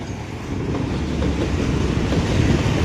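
Train passing close by near a railway junction: a loud, steady rumble with rattling wheel clatter that builds slightly and carries on without a break, with no speech.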